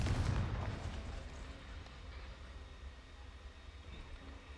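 A Confringo blasting curse explodes in the Hogwarts Legacy video game: a loud, booming blast at the start that rolls off into a long, low rumbling decay, with no talking.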